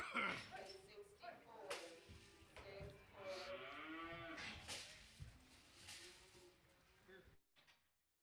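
Cattle at a livestock auction at a stockyard moo in several long, drawn-out calls over a busy room, with people talking throughout.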